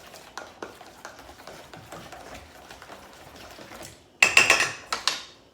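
Kosher salt and black pepper being mixed into a dish for potatoes or apple-bacon coleslaw, with soft, uneven stirring scrapes at close range, then a louder, clattering flurry of mixing near the end.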